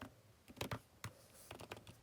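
Keys on a computer keyboard are typed while an invoice is renamed: short, irregular bursts of crisp clicks with brief pauses, close and fairly quiet, with no voice.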